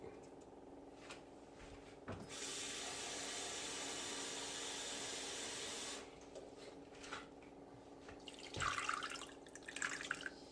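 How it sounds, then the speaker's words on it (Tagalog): A steady stream of water pours into a cooking pot for about four seconds between quiet kitchen clatter and soft knocks, close by. "Dadagdagan ko pa ng konting tubig."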